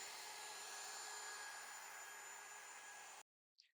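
Router rounding over the top edge of an alder desk with an 1/8 inch roundover, a steady loud hissing whir that cuts off abruptly, followed by a brief faint noise.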